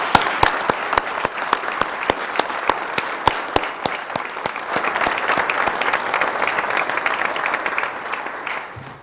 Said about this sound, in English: Please join me in a round of applause to show support for Dearborn's appreciation for their service.